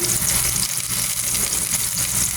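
Onions sauté and get stirred in a hot frying pan, a steady loud sizzle with bubbling oil and faint scraping throughout, alone without voices.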